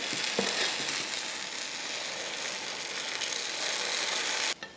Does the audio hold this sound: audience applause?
no